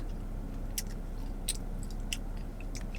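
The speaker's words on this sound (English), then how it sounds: "So you kind of need to like chew it." Close, quiet chewing of a Dairy Queen Sour Patch Blizzard with mini Sour Patch gummy candies, giving a few soft, wet crunchy bites over a low steady background hum.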